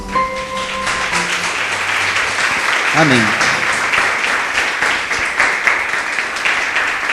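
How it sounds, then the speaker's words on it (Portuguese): Congregation applauding at a Portuguese-language church service led by a pastor, steady dense clapping filling the whole stretch, with a voice speaking and a brief sung or chanted phrase over it near the start. "palmas para o Senhor"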